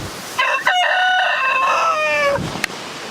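A rooster's crow, imitated by a person's voice, rings out as a single loud, drawn-out call lasting about two seconds and then stops.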